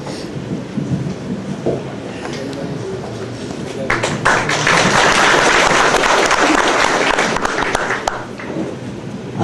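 A hall audience applauds at a professor's retirement ceremony, dense clapping that swells and stays loud for several seconds before thinning out, with faint voices mixed in underneath.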